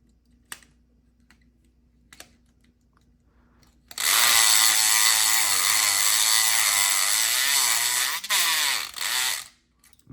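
A Southord E500XT electric pick gun starts up after a quiet moment and runs as a loud, steady, close buzzing whir with brief stutters near the end.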